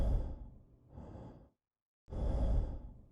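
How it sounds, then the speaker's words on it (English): A sick patient in the video game Quarantine Zone breathes heavily, two slow raspy exhalations like weary sighs separated by a short silence, close and alone. "Definitely got some sickly breath."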